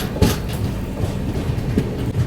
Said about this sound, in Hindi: 2 मिनट के होल्ड के बाद अपनी ट्रेन निकल रही है कोकराझार रेलवे स्टेशन से।